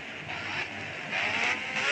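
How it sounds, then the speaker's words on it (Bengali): A Suzuki Gixxer motorbike pulls hard under acceleration, a close, steady engine roar with airy wind rush that swells louder in the second half, no voices. "টান দিচ্ছে গাড়ি"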